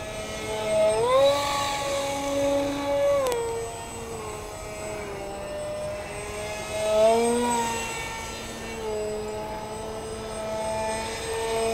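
A radio-controlled EF-2000 model jet flies close by, its engine whining steadily with pitch sweeping up and down as it maneuvers through tight passes, loud and continuous with no talking.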